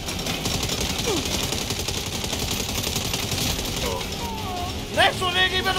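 Rapid turret fire in the game Saints Row, a steady fast clatter running throughout under excited talking and engine noise.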